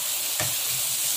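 Mutton fry masala with dried red chillies sizzles in oil, a soft continuous frying hiss broken by one brief stir of the spoon.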